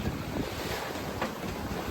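Sea waves and strong wind off the west coast of Norway, heard from aboard a small boat on a solo trip, a steady broadband wash with wind buffeting the microphone throughout, loud and continuous with no talk.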